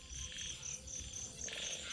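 Frogs and insects call together in a dense night chorus, repeated pulsing trills layered over a low background hum, steady and moderately distant.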